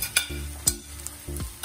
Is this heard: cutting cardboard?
no